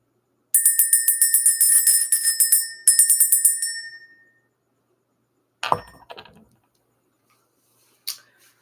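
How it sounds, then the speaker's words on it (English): A small bell is rung rapidly in two bursts of bright, rhythmic strikes that trail off, followed by a few sharp clicks and knocks in an otherwise silent room. "We're going to ring the bell."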